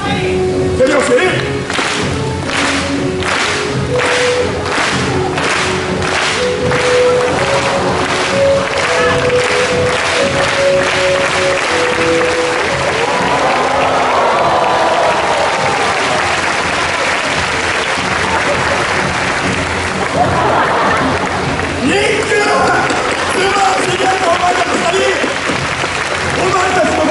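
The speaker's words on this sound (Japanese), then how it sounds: "手拍子、手拍子。" Large outdoor crowd at a USJ Waterworld stunt show clapping in rhythm along with an announcer, steady rhythmic claps filling the scene while a loud amplified voice and music carry over them.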